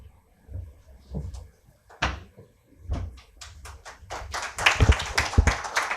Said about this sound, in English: Why are you clapping?